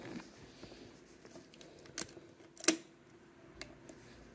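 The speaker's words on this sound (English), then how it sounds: "Shutter release." A 35mm SLR film camera's shutter release fires with a sharp, quiet mechanical click, alongside a few faint ticks and handling sounds.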